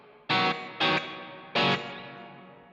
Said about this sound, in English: a reverb, specifically the 63 spring, in between the amp and the cab to kind of emulate a real spring reverb